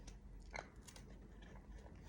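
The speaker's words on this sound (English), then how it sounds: "No chewing the book, Charlie." A pet gnaws on a book, giving faint, soft crunching bites close by in an otherwise quiet room.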